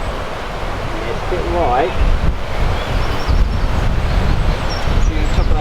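Strong high wind buffets the microphone on a golf course, a constant low roar and gusting rumble throughout, with someone speaking briefly over it.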